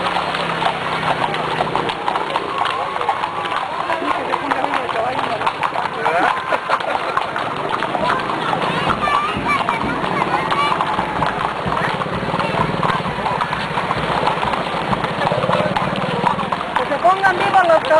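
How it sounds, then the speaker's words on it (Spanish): Horses' hooves clip-clop steadily through a Mexican horseback parade, a cabalgata, with occasional whinnies and an engine rumbling in the background, while people shout and cheer close by over the hoofbeats. "¡Que se pongan vivos los caballos, eh!"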